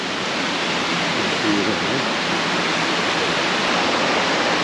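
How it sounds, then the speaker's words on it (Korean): Yongchu waterfall on Daeyasan pours into a rock pool with a loud, dense, unbroken rush of falling water, steady from start to finish. "저 위에서 시원한 물줄기가 내려오고요."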